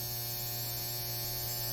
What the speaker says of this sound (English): It's the hunting cabin dryer. Clothes are done.